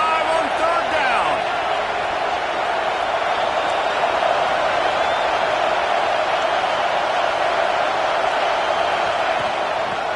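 A packed stadium of Buckeye fans roaring during a third-down play at an Ohio State football game, a loud, dense, unbroken crowd wash that holds steady throughout.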